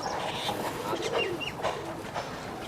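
Giribaz pigeons cooing in a loft, soft repeated coos and a few chirpy calls close by over a steady background murmur, with no talk.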